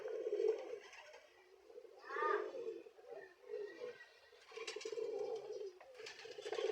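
Racing pigeons cooing in soft, repeated bursts close by, with quiet pauses between calls and faint rustling in the background.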